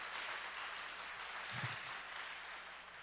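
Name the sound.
applause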